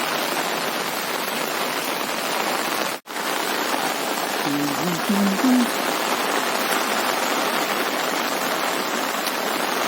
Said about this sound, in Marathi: म्हणजे सतत असा पाऊस पडतच आहे